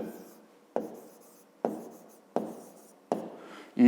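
Pen or pencil strokes on paper while writing down a fifth-grade math answer, in four or five short scratching bursts with brief pauses between, close and clear.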